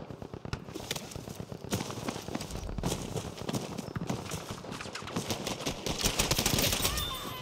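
An M3 Grease gun firing in Battlefield 5, rapid repeated bursts of automatic fire with a steady clattering rhythm, continuous through the clip at moderate loudness.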